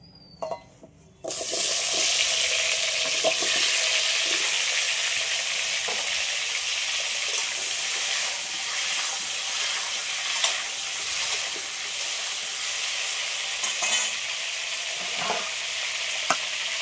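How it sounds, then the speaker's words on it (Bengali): Potatoes frying in hot mustard oil in a wok, a loud continuous hissing sizzle that starts abruptly and then runs steadily, with occasional stirring scrapes. "এবার সব আলুগুলো একটু লাল লাল করে ভেজে নেব।"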